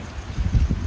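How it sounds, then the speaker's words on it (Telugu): Strong wind buffets the microphone on a hilltop at Nunna Hills near Vijayawada in a brief, low rumbling gust, loud and close, with no voices. "ఇక్కడ విపరీతమైతే గాలి వస్తుంది"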